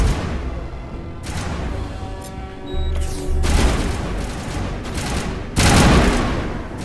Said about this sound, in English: Who's shooting us from behind?